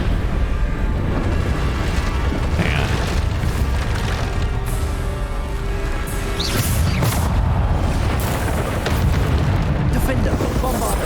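Bombarda explosion spells cast in the Hogwarts Legacy video game, rumbling blasts and bursts over a continuous loud bed of combat noise, with several sharp crashing hits spread throughout.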